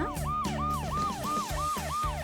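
An ambulance siren wails in a steady, repeating rise-and-fall cycle, about six cycles in quick succession. It is clear and prominent, with no talking over it.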